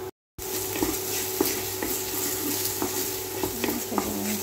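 Sliced mushrooms and other ingredients are stir-fried in a pan. A steady sizzle runs throughout, broken by regular scrapes and taps of a utensil against the pan, close and moderately loud after a brief silence at the start.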